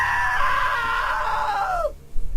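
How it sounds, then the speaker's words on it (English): A loud, sustained scream in What Remains of Edith Finch, holding steady before sliding downward and cutting off abruptly after about two seconds. "Now that was a great scream."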